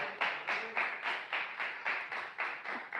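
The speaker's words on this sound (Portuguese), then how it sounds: "Palmas de vitória para Jesus de Nazaré." A church congregation claps in a steady, evenly spaced rhythm during a sermon, about a dozen soft, somewhat distant beats with no voices on top.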